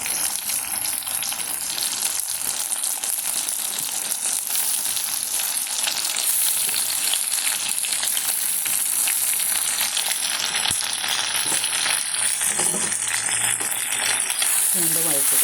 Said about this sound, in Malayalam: വഴണ്ട് വരുമ്പോൾ നമുക്ക് ഇതിനകത്തോട്ട് മീനിട്ട് കൊടുക്കാം. ഇത് മത്തി മീനാണ്.